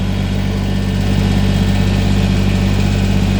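A Kubota tractor engine runs at a steady, loud idle close by, a constant low rumble with no variation throughout.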